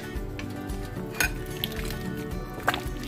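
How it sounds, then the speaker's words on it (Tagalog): Tomatoes, long chilies and potatoes drop into a pot of pork sinigang, giving a couple of sharp metallic clinks and soft splashes over a low simmering background, close by. "ilalagay na po natin yung kamatis at yung ating siling haba. Pati po itong ating patatas. Sama na natin."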